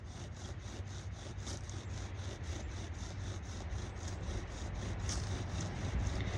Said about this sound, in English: I'm gonna place this down in the fireboard. I'm gonna go ahead and cap it with my socket. And we'll go ahead and get this spinning.